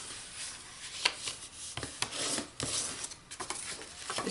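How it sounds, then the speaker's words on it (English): A fold in a scored paper gift card holder is burnished with a tool, making soft, close rubbing strokes broken by a few light taps and scrapes. "So let's fold and burnish this."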